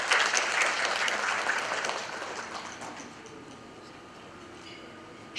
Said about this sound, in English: let's have a big round of applause for her